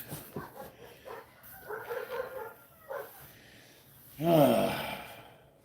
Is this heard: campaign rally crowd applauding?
no